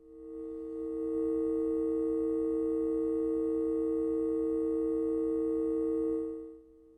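A fast sine wave modulating a signal through an A times B plus C VCA makes a steady, buzzy electronic tone. It fades in, holds evenly at the same level for about six seconds and then fades away, with no voices.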